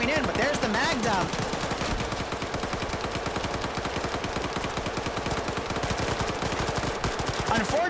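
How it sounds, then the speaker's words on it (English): In Arma 3, rapid automatic gunfire pours out as a full magazine is emptied through a window, a dense stream of shots with a commentator talking over it. "He could. He could literally take this out of their nose. Grenadier round going in, but there's the mag dump"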